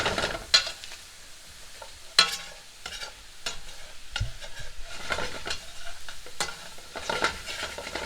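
Vegetables sweating in olive oil in a pan, a soft steady sizzle broken by occasional sharp utensil clicks and stirring scrapes, close and fairly quiet.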